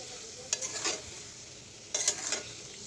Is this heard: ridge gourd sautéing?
yes